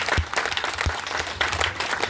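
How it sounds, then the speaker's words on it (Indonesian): An audience applauds Bapak Herman at a political rally in Malaka regency, a steady dense wash of clapping that stays loud throughout with a few sharp low thumps near the microphone. "Tolong beri tepuk tangan yang hebat kepada Bapak Herman."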